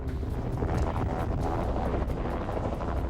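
A rescue helicopter hovers over open water during a rescue, its loud steady rotor roar and rhythmic blade chop mixed with wind buffeting the microphone.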